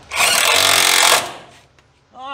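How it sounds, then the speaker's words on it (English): A power tool runs in one loud burst of about a second, driving a bolt tight on a scratch-built rack and pinion steering system for a 1940 Chevy coupe, then stops; a voice begins right at the end. "Let me get a bolt in that. Oh, yeah. Let me tighten it up."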